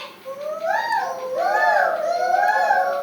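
A voice imitates the call of a koel, a rising, sweet, whistle-like cry repeated in a few continuous sweeps for about three seconds, close and fairly loud.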